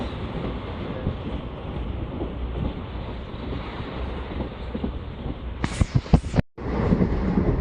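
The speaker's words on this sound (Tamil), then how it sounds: "கன்னியாகுமரி புதுச்சேரி எக்ஸ்பிரஸ்" The Kanyakumari–Puducherry Express rumbles along the rails with heavy wind noise, a steady loud roar that swells into a few sharp bursts near the end before a brief dropout.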